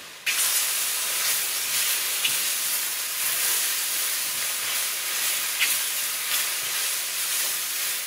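White or brown button mushrooms frying in a pan give off a loud, steady sizzling hiss that runs unbroken for several seconds, with no one speaking.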